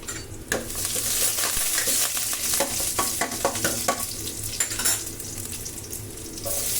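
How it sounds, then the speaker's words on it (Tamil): Curry leaves and crushed garlic hit hot oil in a pan and sizzle steadily, with clinks and scrapes from stirring and a faint watery crackle, close and fairly loud, with no voices. "கருவேப்பிலை, இடிச்சு வச்சிருக்கல பூண்டு அது போட்டுக்கலாம்."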